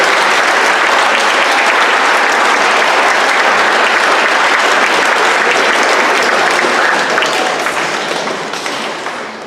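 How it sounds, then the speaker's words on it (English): A large crowd at a high school awards program gives sustained, loud applause for parents, coaches, advisors and directors, a thick continuous roar of clapping that tapers off near the end. "please give a huge round of applause to your parents, your coaches, your advisors, your directors"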